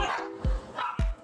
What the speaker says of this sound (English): Sorry for my doggies. Serious! Stop! Stop! No barking! No barking, baby!